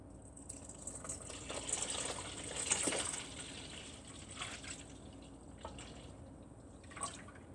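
Whole milk poured into a pot for Swedish rice pudding (risgrynsgröt), a faint, steady liquid trickle and splash running throughout, swelling slightly in the middle, with no talking.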